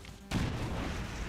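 A grenade goes off in XCOM 2 with the Long War 2 overhaul, a sudden loud blast that cuts in after a quiet moment and rolls on into a sustained rumbling wash.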